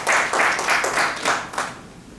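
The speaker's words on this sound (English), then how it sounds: "let's give him a round of applause" An audience at a Ghana citizenship conference claps in a few distinct rhythmic bursts, loud and close, with no talking.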